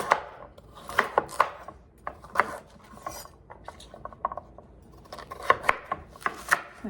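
A kitchen knife chops sweet potato into smaller chunks on a cutting board, with a quick, irregular run of close, crisp taps and short bursts and no voices.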